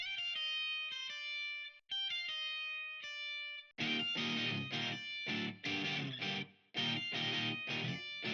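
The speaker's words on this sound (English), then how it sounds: "I'm gonna throw a lot of reverb on that flair now that I think about it." A bright, sustained synth-like guitar melody from a VST in FL Studio, drenched in heavy reverb, rings out with long washy tails, then grows into a denser, distorted passage of held chords.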